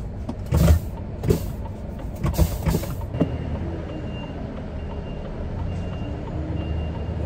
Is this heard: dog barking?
no